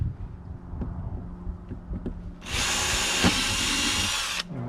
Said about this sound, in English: and we'll drill through